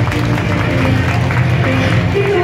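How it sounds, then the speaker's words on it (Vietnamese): Applause and cheering from an audience at a year-end celebration party in Saigon, a steady dense wash of clapping and crowd noise held throughout, with some voices mixed in. "chúng ta hãy dành một tràng vỗ tay thật to"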